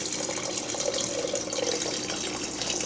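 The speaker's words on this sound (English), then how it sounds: "Yep, go ahead and pour that in there." Liquid pours steadily into an Instant Pot for beef and noodles, a continuous close splashing and trickling that lasts throughout with no speech.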